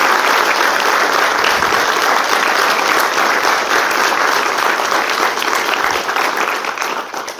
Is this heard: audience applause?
yes